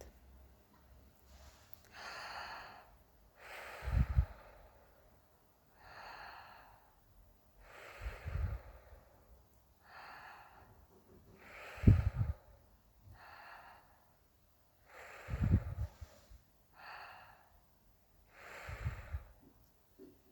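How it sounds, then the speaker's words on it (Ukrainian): Slow, deliberate breaths are drawn in and pushed out through the mouth with the nose held shut during a breathing exercise, about five audible inhale-exhale cycles, close and soft, with brief quiet gaps between them. "Тепер закриваємо носик рукою та робимо вдих та видих через рот."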